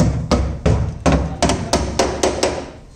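A hammer taps the metal body panel of a Honda Civic to test it, about nine sharp, close knocks at an uneven, quick rhythm, each ringing briefly before the next.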